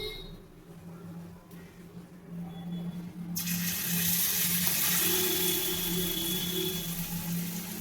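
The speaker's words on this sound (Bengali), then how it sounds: "এবার আমি একটা একটা পনির ব্যাটারের মধ্যে চুবিয়ে এবার আমি কড়াইতে ছেড়ে দেবো" Paneer pieces dipped in batter drop into hot oil in a wok, raising a loud, steady sizzle and crackle that swells sharply after a quieter start and keeps hissing continuously.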